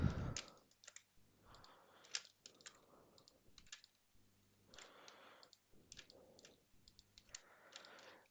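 Control-clicking with a keyboard and mouse while selecting edges in a 3D modeling program, a quiet run of close, irregular clicks and key taps in small bursts with pauses between.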